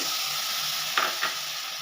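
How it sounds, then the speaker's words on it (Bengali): A spice paste of Kashmiri red chilli powder with a little water stir-fries in a pan. A continuous bright sizzle runs throughout, with two quick scrapes of the spoon near the end. "মশলাটা ভালো করে কষিয়ে নেব"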